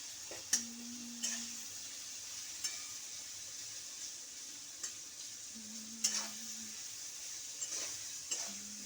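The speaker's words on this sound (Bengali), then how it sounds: "পেঁয়াজটা লাল লাল করে ভাজবে" Onions frying in a pan for ghugni give a steady, soft sizzle, with occasional sharp clinks of a spoon stirring against the pan.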